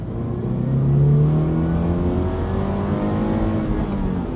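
A Toyota GR86 sports car engine revs hard, its tone sweeping up and down in loud, close, continuous pulls with no speech.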